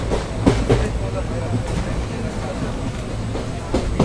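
Yesvantpur to Vasco express train pulling out of Tumkur station, a steady low rumble of rolling carriages with a few faint clanks near the start and end, heard from inside the coach.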